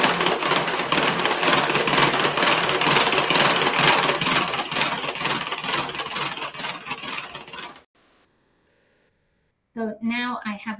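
An electric mixer runs on low speed, whirring loudly and steadily while blending egg, vanilla and sugar, then cuts off abruptly, followed by a short pause and a burst of speech.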